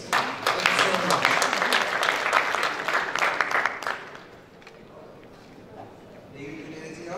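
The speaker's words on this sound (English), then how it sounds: "A big applause, please." Conference audience applauding a speaker at an energy sector meeting, a full burst of many clapping hands that fades out after about four seconds, leaving a quiet room and a voice speaking near the end.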